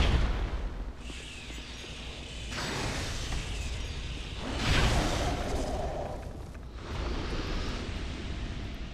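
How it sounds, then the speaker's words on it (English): A giant in Dark Souls 2 smashes through a rock wall in a series of heavy, rumbling bursts and crumbling roars. The sound swells and fades in waves over several seconds and is loud and close, with no voices. "There is going to be a giant that bursts through"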